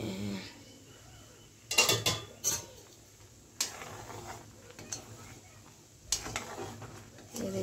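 A lid clatters down onto a cooking pot of spongy rasgullas, with a few sharp metallic knocks close by in quick succession, then quieter clinks and low kitchen noise.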